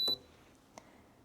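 A Shinco 30 pint dehumidifier gives a short, bright electronic beep as it is switched on, followed by a faint click in an otherwise quiet room.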